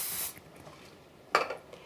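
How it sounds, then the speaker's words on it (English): Non-stick cooking spray hisses onto a griddle in a short burst at the start, then a second brief spray-like burst with a light clink follows after a quiet pause. "Now, a little non-stick cooking spray on my griddle."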